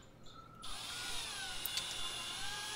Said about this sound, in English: Here I'm drilling the main hole for the whisk to go through right now.